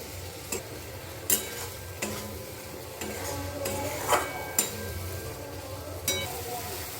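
Spice paste being stir-fried in oil until the oil separates, for a dish later joined by green peas; a soft sizzle runs under repeated clinks and scrapes of a spoon against the pan, fairly close.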